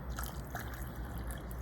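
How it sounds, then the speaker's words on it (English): Vinegar pours into laundry detergent with a continuous, fizzing, trickling wash of liquid, heard close and fairly quiet throughout. "So now I'm going to pour some vinegar into the laundry detergent."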